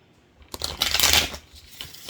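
Tarot cards being shuffled in a single quick riffle up close, a crisp papery flutter that swells and then fades into soft handling.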